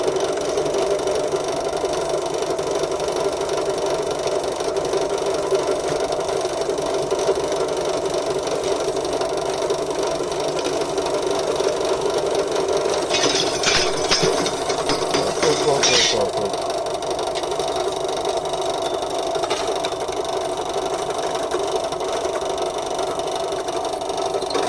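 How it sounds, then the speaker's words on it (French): A pillar drill runs continuously with a steady, close motor hum and whine, with a brief rattling stretch partway through and a voice talking over it. "Après, la perceuse à colonne, et ce sera des boulons un peu comme ça."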